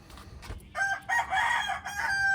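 A rooster of a Taiwan breed crows a single drawn-out call after a brief cluck, fairly close but soft, with no voices.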